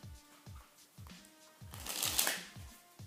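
A playing card is slipped into the middle of a deck during a magic trick, giving quick papery riffles and rubs repeated about every half second, close and crisp, with a louder shuffle burst near the end.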